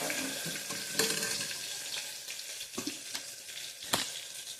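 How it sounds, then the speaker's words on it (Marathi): Mixed vegetables fry in oil for vegetable pulao, a continuous soft sizzle close by, broken by occasional clinks and stirring knocks. "त्यामुळे चांगलं तळून घ्यायचे तेलामध्ये"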